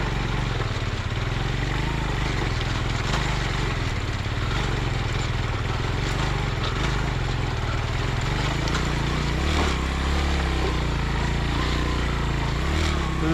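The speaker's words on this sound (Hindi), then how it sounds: "शहजाद भाई तो उतर के ले गए बाइक आगे।" Motorcycle climbing a steep mountain track toward a glacier in the Astore and Rama Valley area, a steady low engine drone with rattling clatter and wind throughout, heard up close with a voice in the background.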